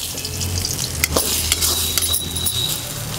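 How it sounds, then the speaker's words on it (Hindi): Ground wet green peas for matar nimona fry in a pan while being stirred, a steady close sizzle with scraping strokes and a few light clinks of the spatula, and no one talking. "अब ये मटर है जो पीसा हुआ है, इसको हम भूनेंगे।"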